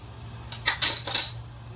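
Cinnamon, cloves, star anise and ghee added to hot oil in a pan in a home kitchen, heard as a few quick metallic clinks and rattles in close succession, fairly loud over a faint steady hum.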